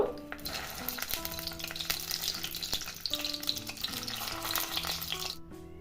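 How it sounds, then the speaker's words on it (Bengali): Pointed gourds (potol) frying in hot oil in a wok, a steady close sizzle with light stirring and utensil clinks throughout, tonal kitchen hum underneath, no talking. "তেলটা গরম হলেই একে একে পটলগুলো ভাজার জন্য তেলের মধ্যে দিয়ে দিব।"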